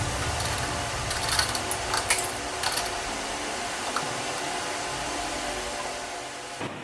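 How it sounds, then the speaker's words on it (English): A belt sander fitted with a Scotch-Brite belt scrubs leftover adhesive off a Tesla Model 3 rear body panel during collision repair, giving a steady continuous whirring grind with a few brief scraping bursts early on, close and alone. "Any remaining adhesive is cleaned off using a belt sander with a Scotch-Brite belt"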